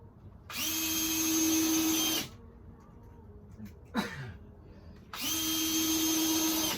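A power drill drives screws into stair wood in two long, loud whirring bursts with a quieter gap between them, where a brief squeak or scrape rises and falls.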